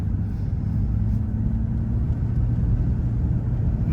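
A 1998 GM truck cruises up a mountain road, its engine and tire noise forming a loud, steady low rumble heard from inside the cab, with no talk.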